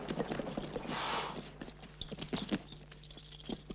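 Several horses' hooves clip-clopping on hard ground as the animals come to a halt, with irregular nearby hoof strikes and a brief burst of noise partway through.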